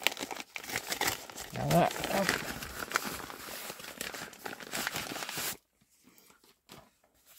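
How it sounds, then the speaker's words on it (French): A Vinted parcel wrapped in newspaper is torn open, with loud crinkling and rustling of paper for several seconds, then near silence, while a person speaks briefly. "On va ouvrir le premier, le plus petit pour commencer"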